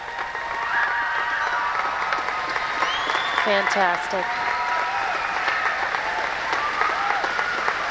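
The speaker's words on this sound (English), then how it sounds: "A very responsive crowd here. A standing ovation for Alexei Ягудин." Sustained applause from a standing ovation for a figure skater at a 2002 ice show, a steady wash of clapping from a large arena crowd with scattered cheers and whistles, under a commentator's voice.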